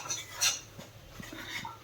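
Spoon scraping and clinking against a pan while spice paste fries in oil for Bengali chicken kosha over a lowered gas flame, a few light metallic taps and stirs with a soft sizzle beneath, close and fairly quiet.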